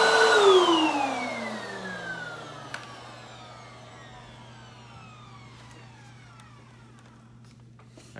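A Hoover Windtunnel 3 High Performance Pet upright vacuum, model UH72630, whines loudly and then shuts off, its motor pitch sliding steadily downward as it spins down, leaving a low steady hum with no talking.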